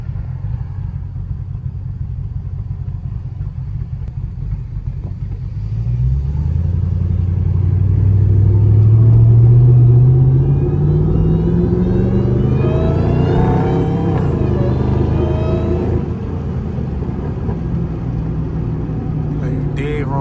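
A cammed 800hp Dodge Hellcat rumbles deeply up close while driving, its engine note rising in pitch and swelling louder midway before settling back to a steady idle-like throb; a person talks over it.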